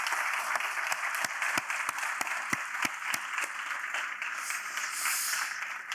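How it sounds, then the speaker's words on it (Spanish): An audience applauds steadily for several seconds, a dense wash of clapping with a few louder individual claps standing out near the front. "yo creo que se merecen un aplauso"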